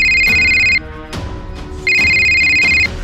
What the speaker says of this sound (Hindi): थोड़ी देर बाद राहुल की माँ के मोबाइल पर एक कॉल आता है।